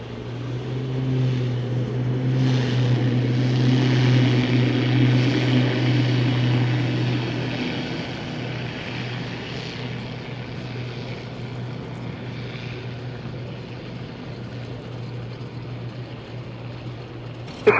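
A propeller seaplane takes off at Vancouver, its engine drone loud and steady for several seconds before gradually fading as the aircraft climbs away, leaving a lower, distant hum.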